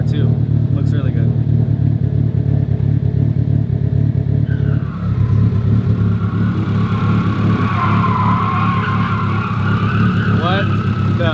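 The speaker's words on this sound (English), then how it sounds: "they said we're gonna go do donuts" A car does donuts with its tires skidding, a loud steady engine roar joined by a rising, wavering tire squeal that grows stronger in the second half, close by, with people talking over it.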